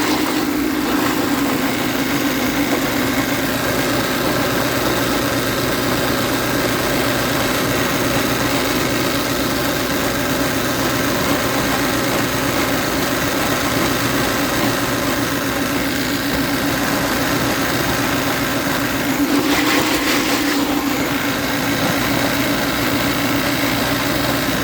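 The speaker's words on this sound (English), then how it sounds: "Now watch what happens when I shake this recovery machine with a cylinder." A refrigerant recovery machine runs beside its cylinder with a continuous, close motor hum. A rough, rattling burst comes near the end as the unit is shaken.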